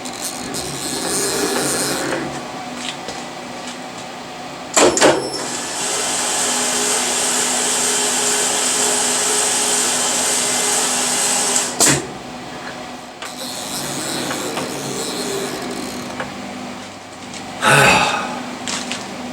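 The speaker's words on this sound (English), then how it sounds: "I am going to dump as much of that air duster onto that spindle to cool that thing down" Compressed air duster hissing in long sprays onto a cracked machine spindle with the collet removed, a steady broad hiss for several seconds broken by short clicks and bursts, close and fairly loud with no talk.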